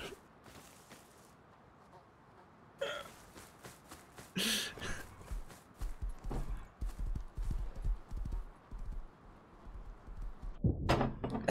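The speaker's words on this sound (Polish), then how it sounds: "Ładnego ma pan konia." Horse hooves clop on the ground in Rust, a survival video game, with irregular taps and thuds running through the clip and a louder burst of movement near the end, under faint background noise.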